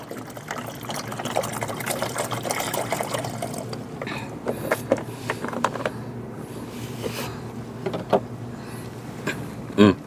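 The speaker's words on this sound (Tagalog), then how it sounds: "O yan, damihan ko na yung tubig nyo." Water poured out for feeding pets, a soft, close liquid trickle with light clinking and handling noises, steady at first and then broken by sharper knocks near the end.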